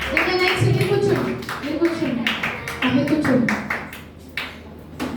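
Children at a summer camp clapping in a rhythmic series of sharp claps, with an adult voice talking over them throughout.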